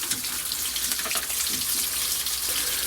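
Water gushes steadily from a hose fed by a boat's water maker, a continuous close splashing flow with no talking.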